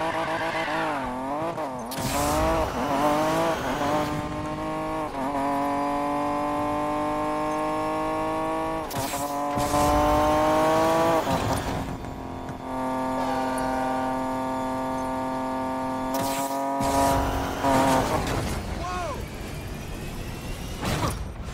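A project car in Need for Speed Payback revs hard through repeated gear climbs, its engine whining up and down while tires squeal in several bursts. The sound is loud and close, and a voice speaks now and then over it.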